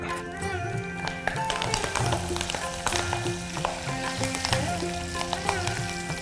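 Dried red chillies, green chillies, crushed pepper and cumin frying in hot oil, a steady loud sizzle and crackle with occasional taps of a utensil, while music plays underneath.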